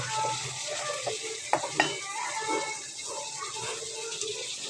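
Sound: chopped onions added to hot pan, frying

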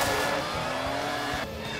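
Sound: cartoon race car speeding

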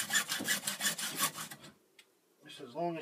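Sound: hacksaw cutting PVC pipe

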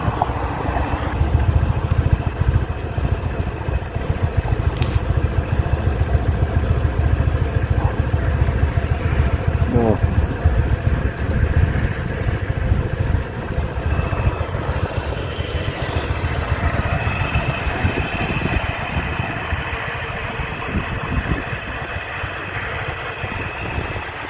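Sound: motor scooter engine running

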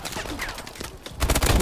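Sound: gunfire in the video game Exo

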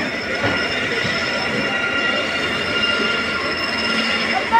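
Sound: passenger train at Meerut City railway station

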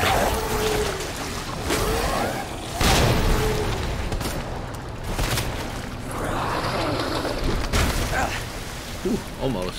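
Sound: grenade explosion in video game Resident Evil 2

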